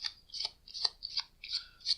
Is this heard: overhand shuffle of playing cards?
yes